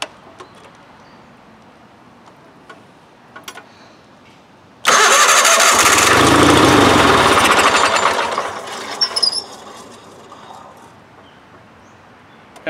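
A 1990 Wheel Horse 520H garden tractor engine cranks and catches, a sudden loud clattering roar that runs several seconds, then eases off before quieter clicks, close by.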